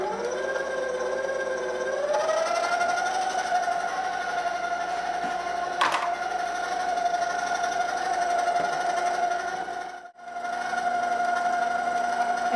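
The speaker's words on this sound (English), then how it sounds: "we're going to let this sit on the mixer for a few minutes, 2 to 3 minutes, so that it cools down a bit" A stand mixer running steadily while mixing choux dough for gougères, a continuous motor whine that rises in pitch early on and then holds, with a brief dropout near the end.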